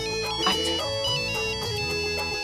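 Mobile phone ringtone playing a steady electronic melody with repeating tones, loud and continuous throughout, no voices over it.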